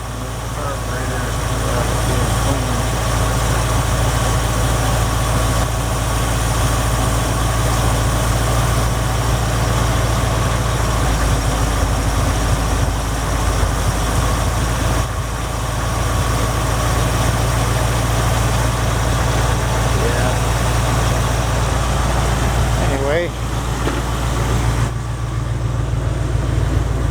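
A 1974 Jeep CJ5 engine idles steadily and close by with a deep, continuous low rumble and slight vibration throughout, and someone talks over it at times.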